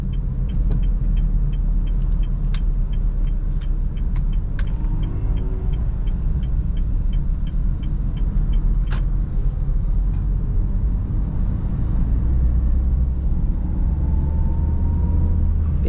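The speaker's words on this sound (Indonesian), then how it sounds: "angkat kopling pelan-pelan, tambah gas. Nah, kita pindahkan gigi 2 ya." A manual car pulls away from a stop and accelerates through its gears. Its engine and road rumble stay low and steady inside the cabin, and scattered faint clicks and ticks sit over it. No voices are heard.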